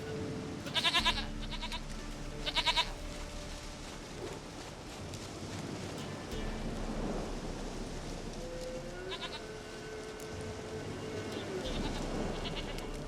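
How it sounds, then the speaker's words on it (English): A goat in The Witcher 3 video game bleats twice in short, bright calls near the start, over a constant ambient game soundscape with a low drone and soft background rumble. "Goat of mine, dearest, sweetest goat."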